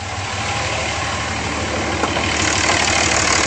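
A 2007 Dodge Ram 2500's 5.9L diesel engine idles steadily under an open hood, a close, continuous rumble with a faint rhythmic knock, loud and unchanging throughout.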